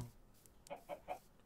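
Minecraft chickens cluck three times in quick succession, soft and fairly quiet over a faint game background, with no talking.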